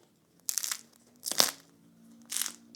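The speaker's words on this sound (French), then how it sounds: "Une croûte qui est bien croustillante." Crisp crust of a sourdough baguette crunching in three separate bursts, close and dry with crackling texture, with quiet pauses between each crunch.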